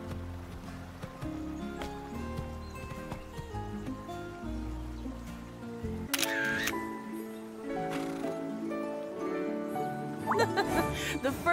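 A single crisp camera shutter click partway through, over ongoing game music and ambient sounds, in the video game Horse Club Adventures 2: Hazelwood Stories.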